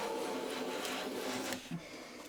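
A hand plane shaving wood against the grain, giving a steady, rough, rasping scrape that runs close and continuous for about a second and a half before a brief soft knock and quieter tail.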